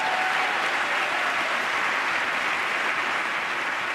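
Steady, dense applause fills the US Congress chamber for Pope Francis, a large crowd clapping continuously and loudly without a break.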